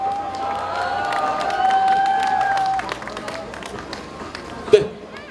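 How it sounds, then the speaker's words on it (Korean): An outdoor crowd at a candlelight protest rally in Gwangju claps and cheers to welcome a youth speaker, a sustained wash of applause mixed with voices and a sharp peak near the end. "박수로 모시겠습니다."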